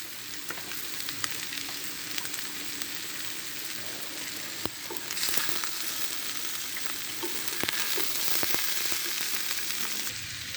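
Grass carp roe fries with bitter gourd and potato in a pan, giving a soft, continuous sizzle broken by scattered spatula scrapes and taps.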